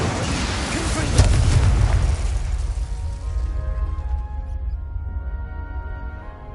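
A single heavy Confringo blasting-spell explosion from Hogwarts Legacy, a loud low boom that hits at once and rolls away into a long fading rumble.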